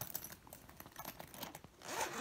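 A zipper on a baby's insulated hospital bag is pulled in short, scratchy rasping strokes, close but quiet, with a louder final pull at the end and no voices.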